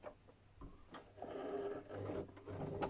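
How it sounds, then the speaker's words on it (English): A sewing machine stitches across the end of a zipper bag, its motor running in a steady, quiet mechanical whir that starts softly, then carries on for a couple of seconds with small pauses and surges. "Make sure you pin, tack, and then sew the end on."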